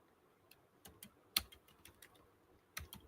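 Typing on a computer keyboard while entering notes in Google Sheets, a faint, sparse run of soft clicks with one sharper key press, close and quiet with no talk.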